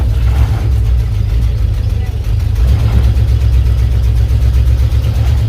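Loud, steady rumble of a 1984 Ford F150 engine idling roughly in gear, with a slightly uneven low-frequency pulse, while someone briefly speaks over it.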